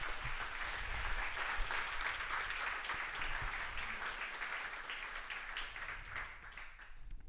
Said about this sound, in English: please give a round of applause for the last finalist of tonight's show.